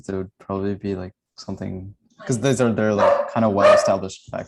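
A dog barks a few times in the background while people talk over it.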